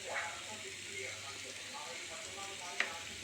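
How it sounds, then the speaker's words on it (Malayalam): Tomatoes sautéed in a pan on high heat, a quiet, even sizzle running throughout, with a faint utensil clink near the end. "ഇപ്പോൾ ഹൈ ഹീറ്റിൽ ഞാൻ ഈ തക്കാളി ഇങ്ങനെ വഴറ്റി കഴിഞ്ഞു"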